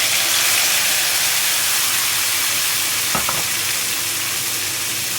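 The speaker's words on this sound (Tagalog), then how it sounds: "Ngayon isusunod ko naman ang kamatis" Tomatoes sizzling in a frying pan with golden fried garlic: a steady, close, loud hiss of hot oil throughout, with a couple of brief clicks near the middle from stirring.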